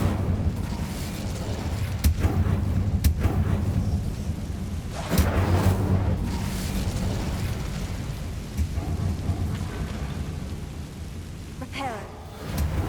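A fiery Incendio spell cast in Hogwarts Legacy on PS5 bursts out in several booming, crackling whooshes over a rumbling game backdrop, with a voice speaking faintly beneath.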